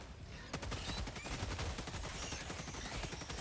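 Rapid automatic gunfire from the video game Helldivers 2, a dense continuous burst of shots that runs the whole stretch at a steady loud level with no talk over it.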